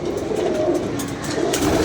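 Pigeons coo in low, rounded rolling calls close at hand, a loud steady cooing throughout with no talk.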